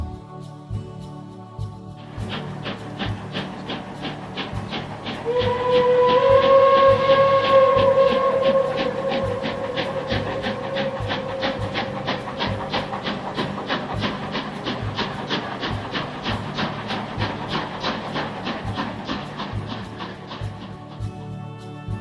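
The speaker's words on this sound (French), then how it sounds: "tu entends la locomotive qui donne réponse à ces hommes" A locomotive train rolling past, its steady rhythmic clatter running throughout while a sustained whistle-like tone swells in the middle and then fades, moderately loud and with no voices.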